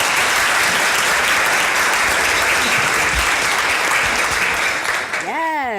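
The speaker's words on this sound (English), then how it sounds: "Round of applause." A crowd applauds loudly and continuously, a thick roar of clapping, and a voice breaks in as the clapping fades at the end.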